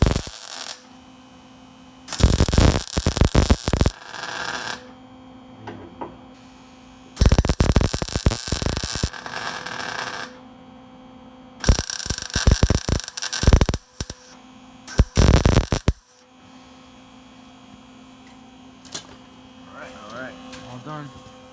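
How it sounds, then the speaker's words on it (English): A welder buzzes in loud bursts while welding rocker panels on a Dodge Ram, each crackling stretch lasting one to three seconds, separated by quiet pauses over a low steady hum. "I don't know what the problem is with this welder today."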